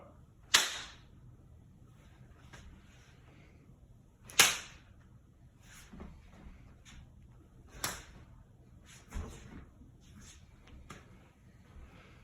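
Stage combat knaps made by hand to fake slaps, several sharp isolated cracks spaced a few seconds apart in a quiet room, with softer smaller claps and rustles in between.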